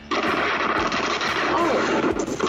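Fortnite gunfire crackles in rapid bursts of sharp shots, loud and close, with a player talking over the shooting.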